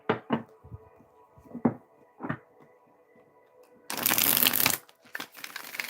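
Tarot cards riffle and shuffle in several short bursts, then a longer, louder stretch of continuous card shuffling near the end, with no voices.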